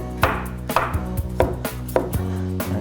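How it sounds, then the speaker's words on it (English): A kitchen knife slices potatoes thin on a cutting board, giving five sharp, evenly spaced chops, close and loud with no talking. "While the chorizo is cooking, we're gonna slice up our potatoes."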